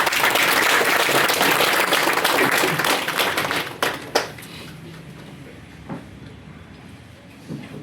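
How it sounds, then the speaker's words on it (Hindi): Audience applause for a sahib at a veterans' pension gathering on Uttarakhand foundation day, a dense, loud burst of clapping that fades after about four seconds, leaving a few scattered claps over room noise. "एक बार साहब के लिए तालियां साहब।"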